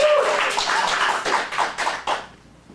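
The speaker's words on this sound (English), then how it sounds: "let's give Jack another round of applause" A small group claps for Jack at a kids' acting showcase, a few distinct claps in a loose rhythm that grow sparse and stop within a few seconds.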